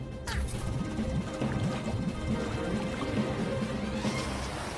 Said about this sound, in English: feed the water through the pressure pump